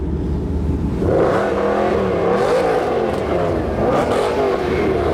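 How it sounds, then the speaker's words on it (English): A GTA car's engine revs hard at a supercar weekend, loud and close, with rising and falling roars over a steady rumble. "lovely to hear the GTA"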